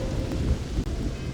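Freezing rain and rolling thunder on a desert planet in Starfield, a dense low rumble with steady rain texture across the whole moment, no voices.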